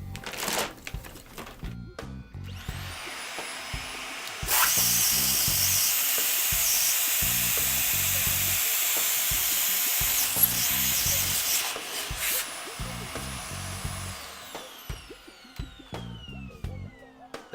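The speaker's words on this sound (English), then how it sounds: "So I'm going to suck some air out of the bag" A vacuum hose draws air out of a Safe Space microclimate storage bag, a loud, steady rushing hiss that starts abruptly, runs about ten seconds, then cuts off, over a faint rhythmic background.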